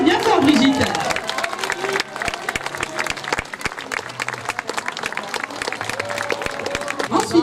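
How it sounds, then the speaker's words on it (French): Applause from an audience at a costume podium event in Chanaz, a dense, steady patter of many hands clapping with a murmuring crowd beneath, loud and sustained throughout. "On peut l'applaudir bien fort, Brigitte."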